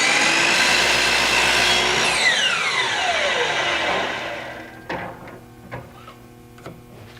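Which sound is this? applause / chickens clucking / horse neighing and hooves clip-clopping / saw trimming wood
saw trimming wood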